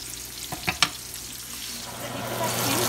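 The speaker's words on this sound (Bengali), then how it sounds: "এর মধ্যে আমি আলুটাও ভেজে নিচ্ছি একটু পাওয়ারটা বাড়িয়ে," Potatoes fry in a hot pan with the heat turned up, a steady close sizzle broken early by a few sharp clinks of stirring, then building into a louder, continuous crackle.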